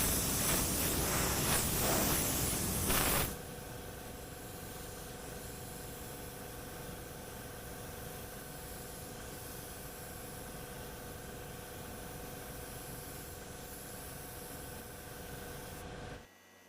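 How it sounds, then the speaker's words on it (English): An R500 spray gun at low air pressure sprays paint onto a car body during collision repair, a loud hissing burst for about three seconds, then a quieter steady hiss and hum. "There's not going to be very little overspray at all with this R500"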